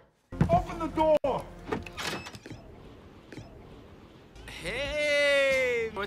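A door clunks and slides open with a sharp thud, amid voices, then a long whining mechanical sound near the end.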